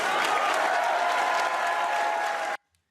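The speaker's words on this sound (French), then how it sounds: "Et standing ovation." A crowd gives a standing ovation in a political assembly hall, with dense, sustained clapping that is loud and steady and then cuts off abruptly into silence.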